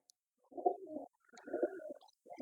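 Large pigeons, offered at a bird sale, give three close, throaty cooing phrases in quick succession, each a rolling, pulsing coo with short pauses between, and no voices over them.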